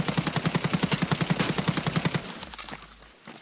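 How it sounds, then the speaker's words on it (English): A suppressed SA-58 rifle fires in a video game, a rapid, evenly spaced string of roughly twenty muffled, thumping shots at full-auto pace that trails off into a faint mechanical tail and quiet. "So we're going to start with the suppressed SA."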